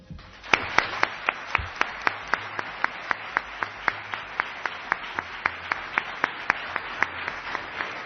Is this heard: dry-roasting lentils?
no